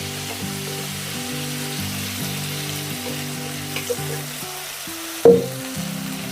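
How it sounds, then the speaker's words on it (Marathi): Onion sautéing in oil over a high flame for Marathi-style poha gives a steady broadband frying hiss under a stepped tonal background, with one sharp louder clatter near the end. "आता आपण गॅस फास्ट करून हा कांदा चांगला परतवणार आहे."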